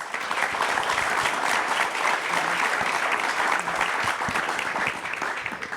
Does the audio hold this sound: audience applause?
yes